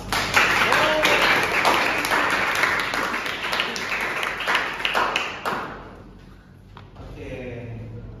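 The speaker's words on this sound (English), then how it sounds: "Please give applause." Classmates clap for a student after a physics lesson answer, a dense patter of hands filling the room for several seconds before fading, with voices murmuring underneath.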